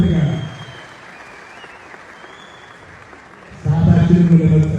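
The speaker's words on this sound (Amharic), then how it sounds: "ጭብጨባ ሞራል ድጋፍ ያስፈልጋል" An audience at an Ethiopian film premiere claps: a burst of applause at the start fades to a thin patter, then swells again, loud and full, near the end.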